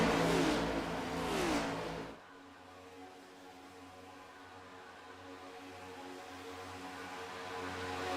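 Race cars accelerate hard on the Daytona track, a loud, rising multi-engine roar for about two seconds before settling into a steadier, quieter droning hum that slowly builds again.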